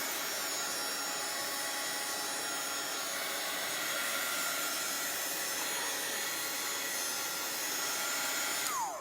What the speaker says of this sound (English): So I'm just going to take a heat gun and heat this wax up a little bit.